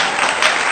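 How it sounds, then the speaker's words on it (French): Loud, dense applause from a church congregation during a service, steady clapping filling the space throughout this brief moment. "Il y a des applaudissements très forts."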